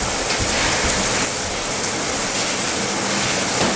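Vigorous scrubbing of a bathtub with a scrubby pad, a dense, loud, continuous rough swishing close up with no voices.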